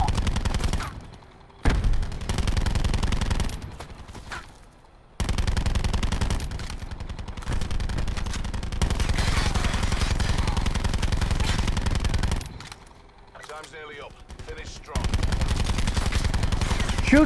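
Call of Duty gunfire crackles in long sustained automatic bursts with brief pauses between them, loud and close, set against battlefield noise.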